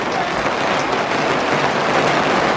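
Rain beginning to fall outdoors, a dense, even patter of drops spread across a broad hiss, loud and continuous with no talking over it.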